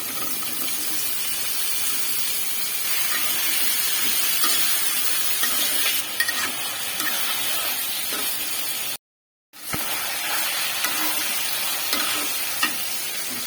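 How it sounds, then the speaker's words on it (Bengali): Sliced bitter gourd frying in fish oil, a steady loud sizzle with stirring scrapes that breaks off for a moment before resuming, with no talking. "এখন দিয়ে দিব করলাগুলো।"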